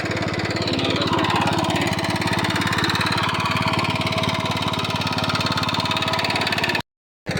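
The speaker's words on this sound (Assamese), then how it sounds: "এতিয়া মানে যিখন ট্ৰেক্টৰ হাল বাই আছে" A tractor ploughing a field chugs steadily and close by, its rhythmic engine drone unbroken and loud until it stops abruptly near the end.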